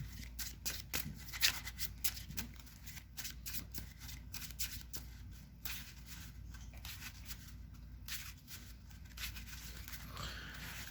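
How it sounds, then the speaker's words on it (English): A Harpie Lady trading card deck being shuffled by hand, a quiet, close run of rapid riffling and snapping card flicks in uneven bursts over about ten seconds. "We'll go ahead and do our shuffly shuffles."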